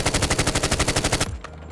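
GRAU 5.56 assault rifle fire in the mobile shooter Call of Duty: Mobile: a steady, rapid automatic burst of evenly spaced loud shots for over a second, then a cutoff into quiet tail.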